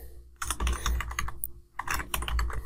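Computer keyboard typing a PowerShell command in Windows 10, two quick clusters of close, crisp key clicks separated by a brief pause.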